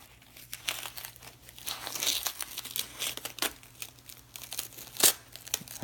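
A parcel from a lockpicking seller is unwrapped by hand, and the paper crinkles and tears continuously at close range in quiet, irregular rustling bursts with a sharper rip near the end.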